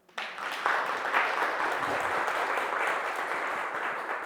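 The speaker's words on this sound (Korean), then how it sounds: "박수 한번 쳐줍시다." An audience at a philosophy lecture breaks into applause, starting suddenly and holding as a steady, fairly distant wash of many hands clapping together.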